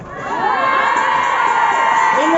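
Crowd at a workers' strike rally in Angers, France, cheering, shouting and whooping together in a loud, sustained roar that fills the whole stretch without a break.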